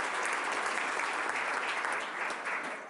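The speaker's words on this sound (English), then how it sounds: "Let's give our folks at the Visual Arts Steering Committee a round of applause." Steady, dense applause from an audience at a city business meeting, a sustained round of clapping heard clearly on its own before tapering slightly at the end.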